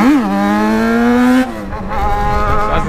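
A Yamaha XJ6 motorcycle accelerates hard through the gears in city streets, its engine loud and close, the pitch climbing steadily and then dropping at a gear change before pulling up again.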